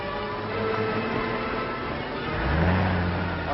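A car in a 1939 film runs out of control, its engine droning steadily up close and then swelling into a louder rev near the end.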